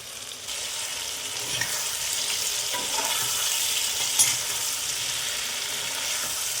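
Chili, ginger and cumin pastes frying in a pan for lau paneer, a bright continuous sizzle close up with light stirring scrapes and one brief clink, no voices present.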